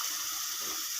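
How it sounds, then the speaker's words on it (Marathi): Water pours into a pan of cooking masala for fish curry, a steady bright hiss of liquid running continuously and close by for about a second, with no talk. "थोडंसं पाणी टाकून घेत आहे,"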